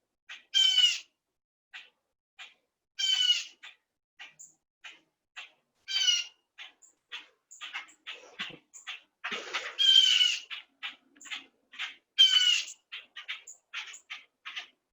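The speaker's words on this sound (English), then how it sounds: "The birds say namaste too." Birds call outdoors in short, bright squawking bursts at a yoga class's close, with several louder chirping phrases repeating every couple of seconds among fainter scattered calls, nearby and alone without talk.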